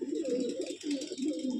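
A female pigeon of a bloodline loft in Bamangachi coos in repeated soft, low throaty pulses, close and steady across the short stretch, with no talk.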